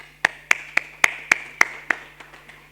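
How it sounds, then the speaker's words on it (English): A handful of people in a speech audience clap in a steady, evenly spaced rhythm, about ten sharp claps that thin out and fade toward the end, heard alone without talk. "please give her a round of applause"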